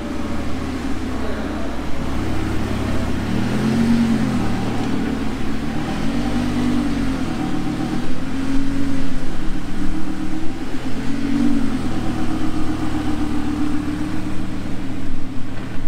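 An RWS car pulls away from a supercar gathering in Perpignan, its steady low engine rumble holding at moderate loudness throughout, with a slight swell near the end as it leaves.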